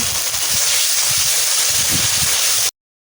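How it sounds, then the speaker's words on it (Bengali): Spices fry in hot oil in a pan, making a steady, loud hiss and sizzle with faint scraping from stirring, then cutting off abruptly. "কিছুভাবে নেড়েচেড়ে মশলা কষিয়ে নিচ্ছি"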